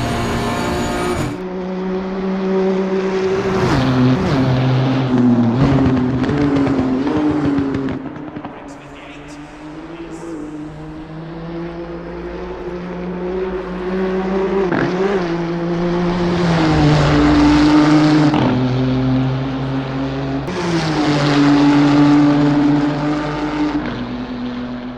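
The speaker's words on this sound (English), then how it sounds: "the sound, whoa, is the best thing about Assetto Corsa Competizione so far" Race car engines in Assetto Corsa Competizione roar loudly and up close, rising and falling through gear changes with sharp shifts and pops, while someone talks over the racing.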